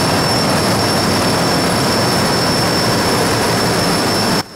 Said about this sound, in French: des habitants utilisent des générateurs au diesel. Mais c'est très polluant et bruyant.